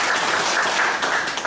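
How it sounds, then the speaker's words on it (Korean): Applause from a church congregation during a worship service, a steady dense wash of many hands clapping with no gaps, moderately loud. "다시 한번 박수로"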